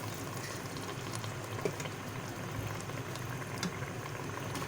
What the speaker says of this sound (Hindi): तो हम इसमें 1 कप पानी ऐड करेंगे।